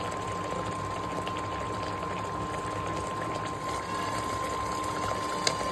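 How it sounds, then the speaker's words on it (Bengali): Pabda fish curry simmering in a covered pot, a steady close bubbling hiss with a faint constant tone, continuous and even throughout with no voices. "ঝোল আমার ভালোভাবে ফুটে উঠেছে।"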